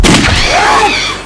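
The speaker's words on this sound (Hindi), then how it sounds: "ये तो गोली की आवाज है।" A gunshot sound effect in a TV crime drama: one loud, sharp blast with a long, fading rumble afterwards. No voices are heard.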